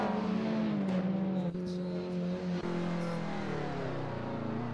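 BMW M1 racing car in DTM trim, fitted with a handbrake, in a racing video game, its engine holding a steady, loud, sustained drone with pitch wavering up and down, heard alone without talk.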